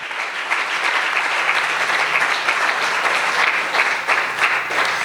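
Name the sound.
audience applause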